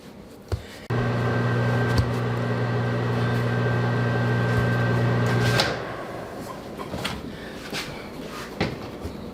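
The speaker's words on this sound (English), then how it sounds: "Put it in the microwave for about 20 seconds." A microwave oven melting butter runs with a steady electric hum for about five seconds, then stops. Kitchen clatter and knocks come before and after.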